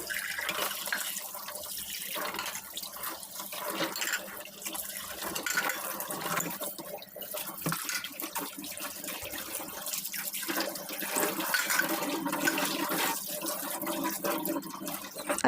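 A kitchen tap runs steadily into a sink while plates and bowls are washed, a continuous splashing wash of water without pauses.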